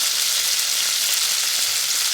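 Chicken sizzles loudly and steadily in a hot pan, a dense, close crackle of frying with no talking.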